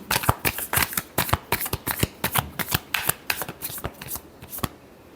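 Tarot cards are shuffled by hand in a rapid run of crisp, close riffling snaps and slaps that slow and thin out toward the end, with no talking.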